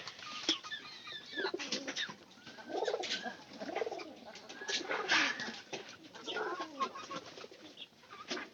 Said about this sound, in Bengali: উপরে একটা কবুতর আছে